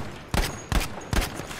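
Three evenly spaced, sharp rifle shots from an MAS.44 in the shooter game Battlefield V, each a punchy crack with a short ringing tail, fired at a measured semi-automatic pace.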